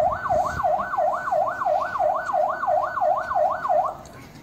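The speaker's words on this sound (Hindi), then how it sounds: "पहली बार देख रहा हूँ गाइस पुलिस वालों की साइरन पे" A police siren wails in a fast, regular rising-and-falling cycle, loud and close, repeating about ten times before cutting off near the end with no voices.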